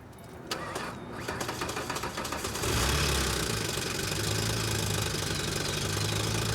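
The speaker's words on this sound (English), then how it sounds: "It's got a weird crank noise" A Ford engine cranks with a rapid clattering, knocking rhythm for a few seconds, then catches and settles into a loud, steady running drone.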